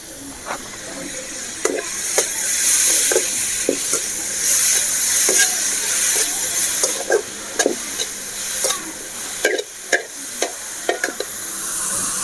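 Carrot, onion and other vegetables for momos being sautéed in a pan, a steady sizzle and hiss under repeated sharp clicks and scrapes of a spatula stirring, close and continuous.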